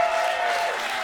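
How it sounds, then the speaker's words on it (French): Applause from a live comedy show audience, a brief, dense and loud wall of clapping that runs evenly without a break. "Chris, Jeff Dénommé, tout le monde l'applaudit!"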